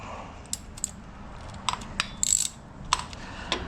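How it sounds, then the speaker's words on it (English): A hand ratchet tightens a bolt on a camel brake fitted with blue Loctite, giving short bursts of sharp close clicking separated by brief pauses. "I'm just going to bring in my ratchet"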